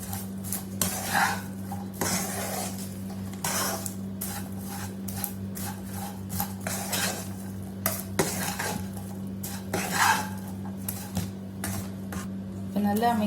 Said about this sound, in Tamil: நம்ம இதை பாப்கார்னில் ஊற்றி கிண்டிக்கலாம். இப்படி நல்லா எல்லா இடமும் படுற மாதிரி கிண்டி விட்டுக்கலாம்.